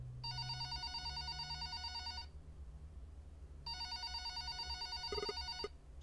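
A phone rings inside a house in a Red Bow Xbox game: two bursts of bright electronic ringing, each about two seconds, separated by a pause, over a low steady background hum.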